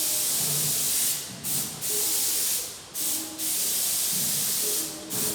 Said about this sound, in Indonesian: Semprot pada bagian yang sulit terlebih dahulu.